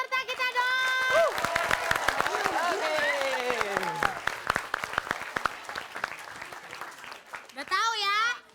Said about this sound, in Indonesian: Tepuk tangan untuk semua peserta kita dong